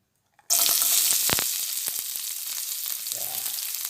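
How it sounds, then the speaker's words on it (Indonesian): Garlic, shallots and chili hit a hot pan and burst into a loud, steady sizzle that keeps going, with a few clinks of stirring and no talking. "Kita tumis sampai layu."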